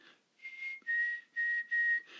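A person whistles an imitation of a chickadee's spring song: four clear, sustained, near whistled notes in a short steady sequence, with no other sounds.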